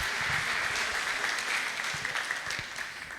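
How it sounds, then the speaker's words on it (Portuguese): Audience applause at a church couples event, a steady wash of many hands clapping that carries on evenly before thinning slightly toward the end. "Salva de palmas."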